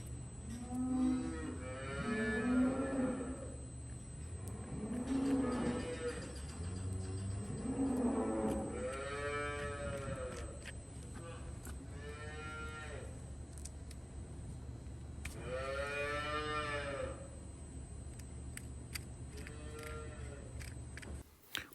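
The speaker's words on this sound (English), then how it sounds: "Would you just listen to all those little baby calves bellowing?" Young calves bellow repeatedly at feeding time, loud drawn-out moos rising and falling in several overlapping calls against steady farm background noise.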